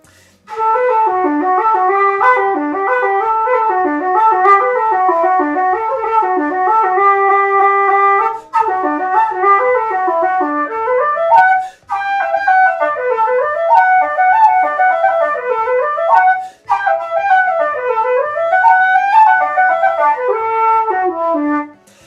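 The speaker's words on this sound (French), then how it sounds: "c'est la flûte traversière irlandaise" An Irish wooden transverse flute plays a lively, continuous tune with quick ornamented runs and breathy tone, close and steady, with a couple of short breaths between phrases.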